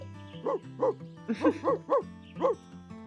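A puppy in a video game barks in a string of about seven short, yipping bow-wows over a steady game music backdrop, close and fairly clear.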